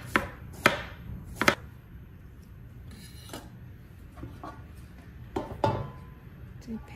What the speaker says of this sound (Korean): 가지는 그냥 둥글게 잘라주세요.